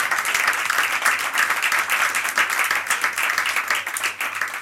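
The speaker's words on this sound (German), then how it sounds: "Sie dürfen auch klatschen, das ist kein Problem." An audience at a German comedy stage show applauds, a dense, steady wash of clapping that carries on without a break for several seconds.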